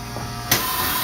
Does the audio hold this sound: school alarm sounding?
no